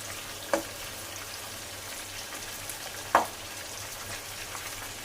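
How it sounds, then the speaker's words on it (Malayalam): Chicken pieces fry in a pan for chilli chicken, giving a low, even crackling sizzle like light rain. Two distinct clacks of a utensil turning the pieces stand out. "ഇനി നമുക്ക് ചിക്കൻ ഒന്ന് മറിച്ചിട്ട് കൊടുക്കാം കേട്ടോ"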